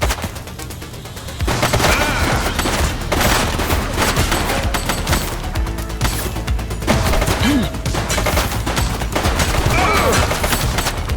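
Rapid gunfire crackles in dense, overlapping bursts during a police shootout with a burning vehicle in the video game The Precinct. It stays loud and nearly continuous for about ten seconds, with brief voices mixed in.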